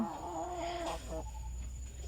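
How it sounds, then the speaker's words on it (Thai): A laying hen clucks close by in a brief, quiet burst of a few rising and falling calls over a low steady background hum. "ไก่ไข่ของแม่ควาน ตายไปหนึ่งตัวนะคะ"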